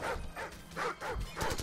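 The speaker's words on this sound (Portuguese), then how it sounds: "Não, tem cachorro." Dog barking in Call of Duty 4, a burst of repeated close barks and yips in an uneven rhythm, loud and alone.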